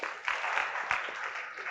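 An audience at a poetry recital applauds the teachers, a dense burst of many hands clapping continuously at moderate loudness throughout.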